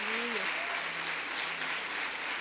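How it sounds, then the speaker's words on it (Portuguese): Women's gathering in a church setting breaking into steady applause, a dense, even wash of clapping with a brief voice over the start. "Uma salva de palmas ao Senhor"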